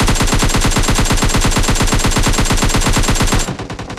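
Loud, relentless automatic fire from a gun in PUBG Mobile Lite hammers in a fast, perfectly even rhythm for about three and a half seconds, then cuts off to a quieter background rumble.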